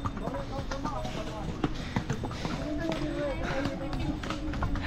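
Horse hooves clopping on the mountain trail to Kedarnath temple, a run of scattered, uneven hoof taps amid steady outdoor rumble, with people talking over them.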